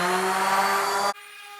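Sanding an engraved item with 220 grit sandpaper produces a loud, steady abrasive buzz for about a second before stopping abruptly, leaving a quiet hum.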